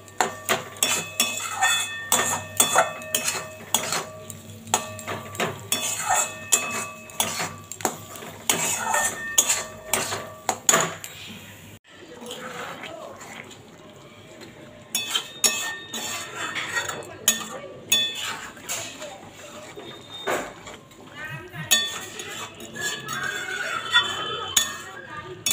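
A metal spoon stirs and scrapes a spiced onion, tomato, ginger and garlic masala with turmeric in a pan, giving repeated clinks and knocks in irregular bursts, close and fairly quiet, with a short pause midway.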